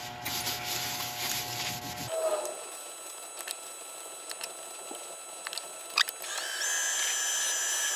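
Cellulose sealer is rubbed onto spinning wood on a lathe, a loud close rasping hiss for about two seconds. The lathe then winds down to near quiet with a few faint taps and a thin high whine.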